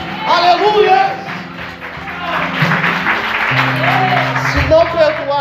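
Congregation applauding during a Portuguese-language church sermon, steady clapping with voices and shouts mixed in from the crowd throughout.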